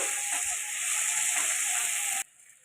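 Masala sizzles steadily in hot oil while being stirred for a duck egg curry, a dense, close hiss lasting about two seconds before dropping abruptly to a quieter background.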